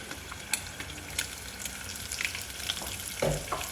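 Food fries in a pan with a steady, close sizzle, broken by a few soft stirring scrapes and light pops.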